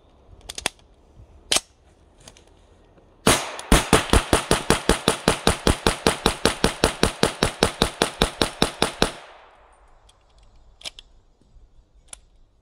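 A homemade submachine gun fed from Sten magazines fires a long rapid burst of about thirty sharp, loud reports in even rhythm, preceded and followed by a few isolated clicks and clacks.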